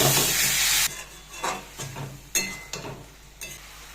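Chicken being sautéed in a pan with onions gives a loud sizzle at first, then quieter frying broken by several short scraping stirs at irregular intervals, close by.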